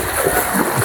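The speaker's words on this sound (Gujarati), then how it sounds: "બધી બાજુ પાણી અંદર જ આવે છે" Floodwater splashes inside a village house during heavy monsoon rain, a brief close burst of sloshing and splattering water over steady rain noise.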